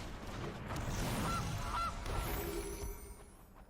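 A goose honk effect from the MTG Arena card game, heard as a few faint nasal honks over a steady game-music and ambient bed, with no talk.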